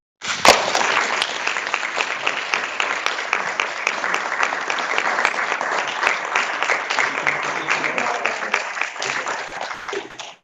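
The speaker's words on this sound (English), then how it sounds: "Round of applause." A crowd at a school board meeting applauds at length, a dense steady patter of many hands clapping for about ten seconds before it cuts off.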